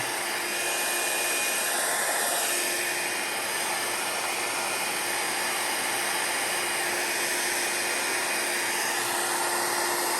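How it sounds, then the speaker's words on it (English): A hair dryer blows steadily at close range, a loud continuous whooshing hiss with a faint whine and no talking. "I don't normally angle my dryer this much"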